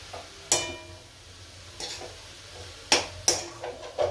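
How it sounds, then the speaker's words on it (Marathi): Grated carrots are sautéed in ghee for carrot halwa, with a low steady sizzle and several sharp clinks of a spoon or spatula striking the pan at irregular intervals, close and clear, with no voices. "परतून घेते चांगल्या तुपामध्ये बघा गाजर चांगले परतून घेतले तुपामध्ये"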